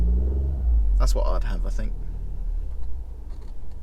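A Ford Focus RS with a 2.5 litre engine passing by, a deep, loud low rumble swelling and fading while someone talks over it.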